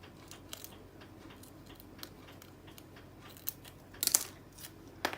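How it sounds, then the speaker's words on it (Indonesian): Scissors cut a length of packing tape for binding a paper, producing faint, crisp snips and a few sharper crunchy cuts near the end, close and quiet over a low steady background. "Digunting sepanjang yang dibutuhkan."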